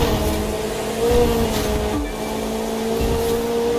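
Engine drone of a car racing flat out in The Crew 2, a steady continuous roar with slight pitch shifts throughout, fairly loud and steady with no talk over it.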